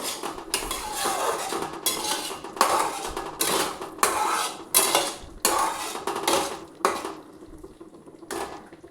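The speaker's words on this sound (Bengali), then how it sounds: "আমি গ্যাসটা কমিয়ে মশলাটা ভাজছি" Cashews and spiced masala of onion and garlic are stirred and fried in a pan over lowered gas for potato curry, with repeated loud scraping and clanking of a utensil against the pan in a steady rhythm.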